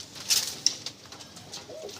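Madrasi pigeons from an old Kolkata bloodline coo close by, a few soft calls alone with light rustling and a brief flutter, no voices.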